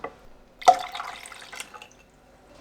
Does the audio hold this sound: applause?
no